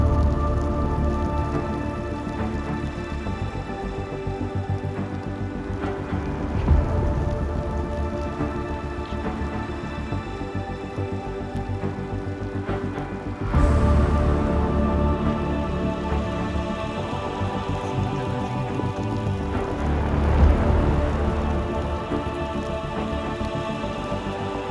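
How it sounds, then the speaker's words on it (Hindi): Heavy snowfall patters continuously onto surfaces at a base camp on the Kedarkantha trek, a dense, close, rain-like hiss that swells slightly in a few spots and carries on without voices. "काफ़ी तेज़ हो रही है स्नोफॉल"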